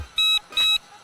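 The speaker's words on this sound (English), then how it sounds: "Oh boy, my goggles are beeping at me." FPV goggles sound a low battery warning while flying an Eachine UZ65 quad: two short, high, electronic beeps in quick succession, loud and close.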